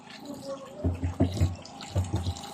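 Free water running from a tap on a farm, a splashing flow with uneven surges in the middle of the clip, close by and moderately loud.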